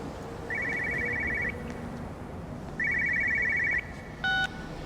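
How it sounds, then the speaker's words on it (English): A telephone rings in Everybody's Gone to the Rapture with two long electronic trilling bursts separated by a pause, followed by a brief sharp tone, all fairly loud over a quiet background. "I know the phone's not going to stop ringing until I pick it up"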